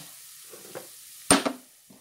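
Stirring a cooked cassava mixture into hot steamed rice in a pot: a few soft scrapes, then one sharp loud clank of a utensil against the pot and a short follow-up knock, all in near silence.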